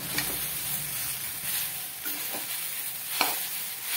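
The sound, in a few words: stirring sabudana khichdi in a pan on high flame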